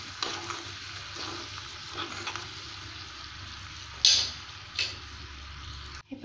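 Milk comes to a boil in a pan for sago kheer, giving a steady low bubbling hiss with a couple of light clinks near the end.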